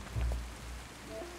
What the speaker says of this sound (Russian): И дождь пошел,